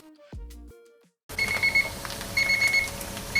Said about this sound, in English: So there's our alarm after 5 minutes